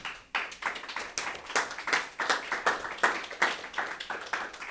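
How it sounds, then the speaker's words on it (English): An audience at a bookstore town hall applauds a panel for a few seconds, a steady patter of many hands clapping at moderate volume with no talking. "Give the panel one more round of applause."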